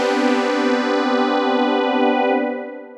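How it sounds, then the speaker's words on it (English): A polyphonic pulse-width modulated Mini Pulse synth patch sustains a bright, buzzy chord with a gentle shimmering wobble, holding steady for nearly three seconds before tapering off, with nothing else heard. "Mini Pulse with modulation. We've got this gorgeous poly sound."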